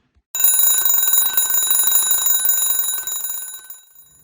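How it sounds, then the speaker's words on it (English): An alarm clock goes off at night with a loud, shrill electronic ring that starts abruptly and sounds continuously for about four seconds before cutting off. "Alarm went off and woke me up."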